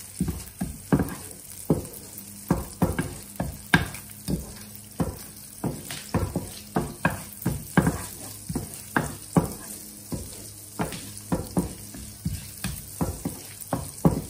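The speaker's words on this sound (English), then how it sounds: "I will add some cumin seeds or panchpuran, whatever you want, into it and let it saute" Cumin seeds sauté in melted butter in a pan, popping and crackling in sharp, irregular bursts over a low sizzle. The sound is close and stands alone, with no voices.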